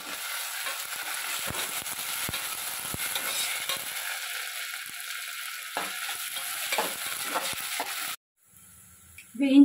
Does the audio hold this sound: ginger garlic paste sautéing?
yes